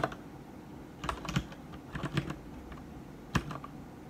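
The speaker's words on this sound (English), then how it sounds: "Let's try typing some code." Code being typed on a computer keyboard in short bursts of crisp, close key clicks, separated by brief pauses, with no talking.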